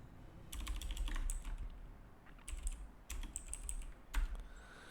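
Typing on a computer keyboard while writing React code, quick bursts of close, crisp key clicks separated by short pauses.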